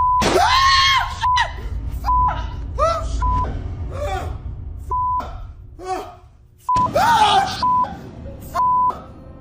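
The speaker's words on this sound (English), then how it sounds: "Jorge begins hearing terrifying screams echoing through the rooms" Shrill, wavering screams ring out in bursts, overlapping with short electronic beeps, then rise again loud and echoing near the end.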